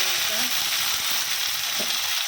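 Steady, hissing sizzle of onion frying in hot oil with five-spice in a wok, loud and continuous throughout, with faint clinks and no talking.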